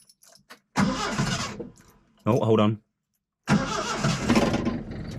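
A 1971 Datsun 510 engine cranks briefly and catches, then settles into a steady running rumble with a rattly exhaust; a person speaks beforehand.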